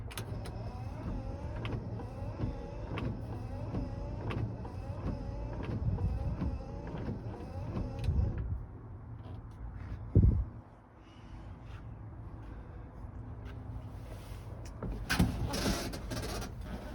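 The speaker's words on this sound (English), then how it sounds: "So we got wipers." Windshield wipers on an unrestored original 1966 Jeep J3000 Gladiator whir and thump in a regular back-and-forth rhythm for several sweeps, then stop, leaving quieter clunks and a closing rustle.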